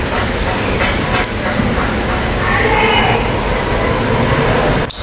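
A neighbor's generator runs upstairs near a window, giving a steady, loud, broadband mechanical drone with a faint hiss that continues without a break.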